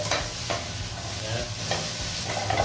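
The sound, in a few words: sautéing chicken and asparagus in a pan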